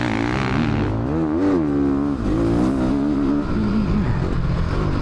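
A 450 dirt bike engine on a motocross track revs and pulls in a loud, continuous buzz whose pitch climbs and dips with throttle changes, close and sustained throughout.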